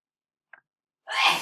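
After a brief faint intake of breath, a single person sneezes sharply and close, a short breathy burst in an otherwise silent room.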